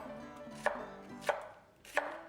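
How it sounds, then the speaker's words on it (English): A sharp knife chops fresh Hatch red chiles on a cutting board in a kitchen. Three crisp, evenly spaced cutting thuds sound up close, with no talk over them. "Man, they slice so beautiful. I'm just chopping these up"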